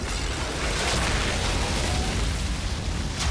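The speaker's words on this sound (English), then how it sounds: "Phaser" Phaser fire skill cast by the Fire Witch in Outriders, a sustained roaring blast of fiery noise with a heavy low rumble, loud and continuous throughout, with no talk over it.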